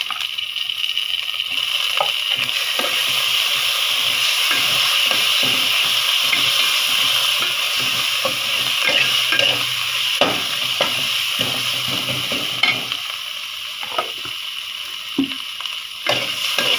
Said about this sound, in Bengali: এখন আমি আদা রসুন পেস্ট দিয়ে দিব।